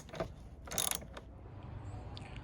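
A wrench tightening the negative terminal on a car battery, a few quick metallic ratcheting clicks and a short louder burst of rattling, close against a quiet background.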